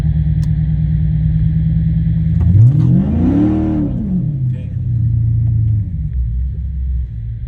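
A 6.4-liter SRT8 V8 engine idles with a deep, close rumble, then revs up sharply to a rising roar around the middle and settles back to a steady idle.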